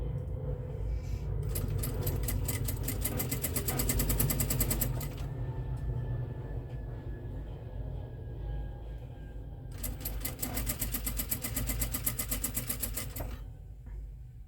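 A sewing machine stitches around a fabric circle with a fast, even mechanical chatter in two long runs, separated by a quieter stretch where only the motor hum and a faint whine continue; close and steady.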